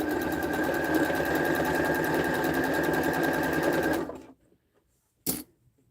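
A sewing machine whirs rapidly and loudly, stitching pieces of a patchwork duffle bag for about four seconds before stopping, followed by a short second burst of stitching.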